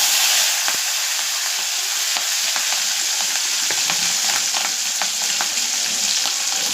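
Chopped green chili crackling and sizzling in hot oil, a dense steady fry hiss with scattered sharp pops and the occasional stir, close and continuous with no voices.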